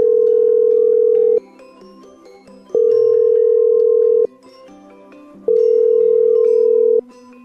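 Telephone dial tone heard while a call is placed: three loud steady tones of about one and a half seconds each, separated by short quieter gaps, with no voices.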